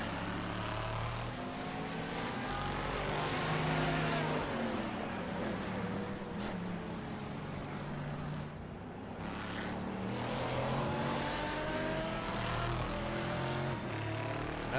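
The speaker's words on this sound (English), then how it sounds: "I love the two different sounds of these cars in terms of" Mixed-class GT1 and GT3 race cars, including an Aston Martin, lap Texas Motor Speedway in a dense, continuous engine roar. Pitch swells and shifts as cars pass, loud throughout, with no voices.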